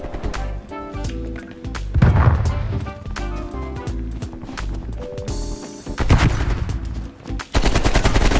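Gunfire rings out in a Call of Duty video game match, with loud, close bursts of rapid automatic fire and single shots over game music and effects.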